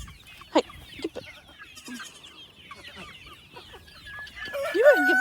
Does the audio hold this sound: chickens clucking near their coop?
yes